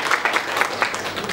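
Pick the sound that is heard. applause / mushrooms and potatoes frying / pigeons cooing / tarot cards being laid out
applause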